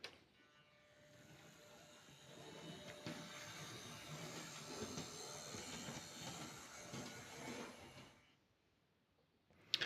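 Model railway locomotive running along its track, a soft steady whirring motor hum with faint rail clatter that swells up, holds for several seconds, then fades away, close by and alone.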